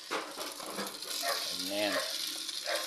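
Chayote sautéing in a pan with onions and corned beef gives a steady, close hiss of frying, with a voice briefly speaking over it partway through.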